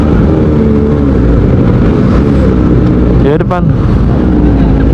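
A Kawasaki ZX25R fitted with an Arrow Pro Race exhaust roars loudly and continuously at close range, its engine note rising and wavering briefly, while a voice speaks a few words over it.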